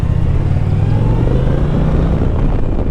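A 2025 Indian Chieftain Powerplus performance bagger's engine pulls under acceleration, a loud, close, steady low rumble with a slight rise in pitch, heard alone without talk.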